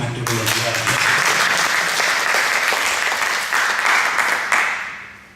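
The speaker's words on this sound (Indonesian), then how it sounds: "Beri tepuk tangan dulu yang luar biasa." Loud, full applause from a church congregation during a sermon by Pastor Great Muller, dense continuous clapping that swells and then tapers away near the end.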